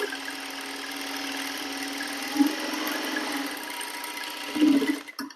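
A sewing machine stitches an A-line coat-style kurti. Its motor gives a steady, close whirring drone that runs almost without a break, with a couple of brief louder bumps and no talking.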